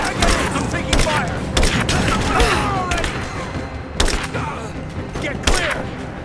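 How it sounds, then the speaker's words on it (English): Repeated loud gunshots and booming bursts in the action game Rise of the Tomb Raider, sharp cracks spaced irregularly through a dense combat din, with shouted in-game voices. "I'm taking fire!"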